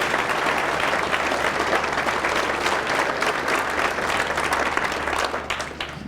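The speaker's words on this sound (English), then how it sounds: "So let's give him a round of applause" A school audience applauds a student, a thick, sustained burst of clapping from many people that stays loud and steady before easing off slightly at the very end.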